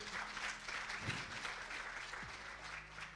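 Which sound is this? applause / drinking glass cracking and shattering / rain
applause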